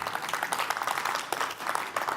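An audience at a stand-up comedy show claps, a lively, even patter of many hands filling the whole moment without pause.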